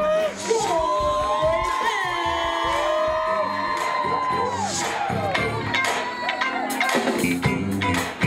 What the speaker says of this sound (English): I need you to start clapping it up right now